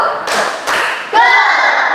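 Sharp clapping bursts ring out in a short series in a school classroom, followed by a brief high tone.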